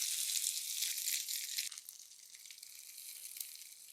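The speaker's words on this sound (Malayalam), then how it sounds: "ഇച്ചിരി എണ്ണ ഒഴിക്കാവേ ഇച്ചിരി കടുകിട്ടു വറ്റൽമുളക് ഇട്ടു കുറച്ച് കറിവേപ്പില ഇട്ടു" Mustard seeds, dried red chili and curry leaves sizzle in a little hot oil for a buttermilk curry, a soft, steady hiss that is busier at first and then settles, with no voices over it.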